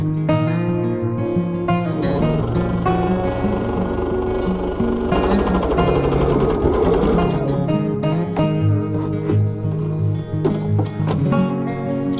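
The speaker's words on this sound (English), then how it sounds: "And I'm going to stitch them, and then I think I'm going to zigzag them." A sewing machine stitches a seam through a quilted bag lining, a loud continuous mechanical whirr with rapid needle clatter that runs for most of the stretch, briefly easing and resuming near the end, with no voices.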